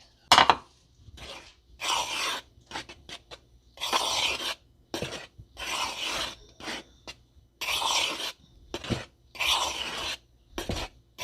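Orange peel rubbed against a hand grater for zest in a kitchen while making a Jamaican Easter bun, a series of short rasping scrapes in a steady rhythm with brief pauses between strokes.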